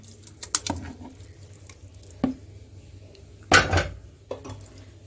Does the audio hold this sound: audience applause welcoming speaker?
no